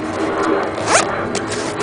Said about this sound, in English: Fairly typical Maxpedition YKK zippers, reversed